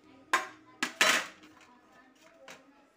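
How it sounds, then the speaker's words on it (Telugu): Raw mango pieces for a spicy pickle tipped into a masala mixture, giving a few sharp clattering thuds in quick succession and then a faint later knock, close and fairly quiet with no talk. "ఇందులో ఇప్పుడు మామిడికాయ ముక్కలు వేసుకోవాలండి"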